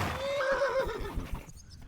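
A horse in the video game Kingdom Come Deliverance 2 gives a clear, close whinny, followed by a few soft hoof clops before it fades.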